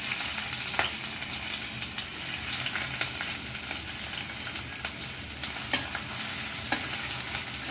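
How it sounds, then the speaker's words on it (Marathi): Onion fries in hot oil in a kadhai wok for veg fried rice, a steady crackling sizzle with occasional scraping stirs of a spatula, close and alone without speech. "तेल तापल्यानंतर हा आपल्याला कांदा फ्राय करून घ्यायचा आहे।"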